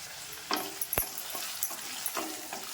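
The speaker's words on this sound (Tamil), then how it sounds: "தக்காளியும் போட்டு கொஞ்சம் உப்பு போட்டு வதக்குங்க" Tomatoes and salt sauté in a hot pan with a soft, steady sizzle, broken by a few spoon scrapes and taps close by.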